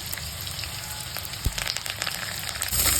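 Curry leaves, onion and ajwain sizzle steadily in hot oil, with a sharp pop or crackle partway through and a brief louder burst of frying near the end.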